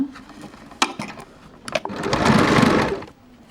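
Sewing machine stitching along the edge of a baby frock, running in short bursts then a steady, louder whirring run of about a second, close up with no talk.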